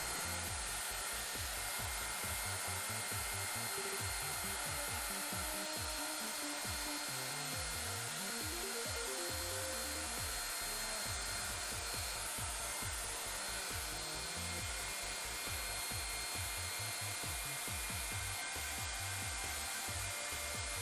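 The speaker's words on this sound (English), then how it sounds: "The sound you hear in the background is my hair dryer as I'm warming up my film chemicals." Hair dryer blowing on film-developing chemicals to warm them, a steady loud whirring drone with a fluctuating motor pitch running throughout, no talk over it.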